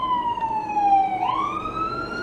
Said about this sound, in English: Siren, it's gonna be there a while, isn't it?